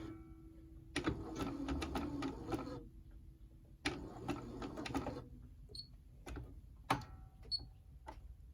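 A sewing machine stitches down the end of a fabric bag pocket in short rapid bursts of whirring needle clatter, stopping and restarting several times with soft clicks between runs, close by and without talk.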